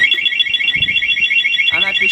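An aftermarket alarm on a Stels Delta 200 motorcycle sounds up close as a loud, continuous, high electronic warbling tone, with a brief extra chirp near the end.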